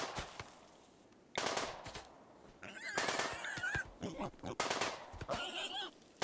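Bursts of automatic gunfire from a RimWorld colony battle, several sharp volleys between quieter stretches, with a faint growling creature sound mixed in.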